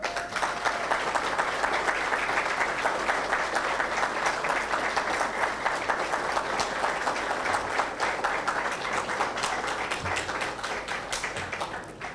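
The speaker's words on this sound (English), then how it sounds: "ask the faculty to stand up and ask you for a round of applause for the faculty" Sustained applause from an audience honoring the faculty at a medical school white coat ceremony, dense steady clapping that holds for the full stretch before tapering slightly near the end.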